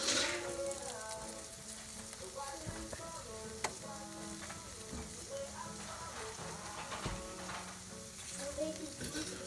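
Scallops sizzle and crackle as they go into containers heated in the oven, a soft steady fizz with a few light clinks and taps of handling.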